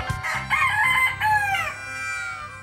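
A rooster kept in a large box crows one long, loud, close cock-a-doodle-doo that rises and then trails off in a drawn-out tail, with no talking over it.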